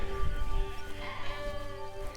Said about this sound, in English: A few sheep in it.